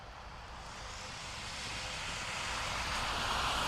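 Rising engine roar of an ATR turboprop departing Dublin Airport for Edinburgh, growing steadily louder as it approaches, with no talking.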